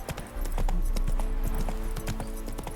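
Horse hooves clip-clopping in Witcher 3 as Geralt rides his horse Roach, a steady rhythmic trot of many hoof strikes against a constant low rumble of game ambience, with no talking.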